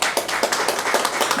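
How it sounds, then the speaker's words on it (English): Steady applause from a brunch event audience, loud and close, with dense clapping and brief rhythmic peaks, no talking. "Just want to get another round of applause for Mr. Phipps, please."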